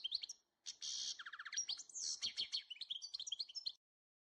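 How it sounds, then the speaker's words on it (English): A single bird sings a quick, bright run of chirps, trills and whistled phrases, close and clear against a quiet background, ending in silence. "Birdsong can restore your mental energy, sharpen your focus, and offer a natural antidote to stress and fatigue."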